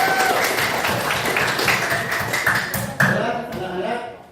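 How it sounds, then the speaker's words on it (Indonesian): Classroom students clapping together in a lively, close burst of sharp overlapping claps, with children's voices mixed in and the sound fading out at the end. "Terima kasih, tepuk tangan semua."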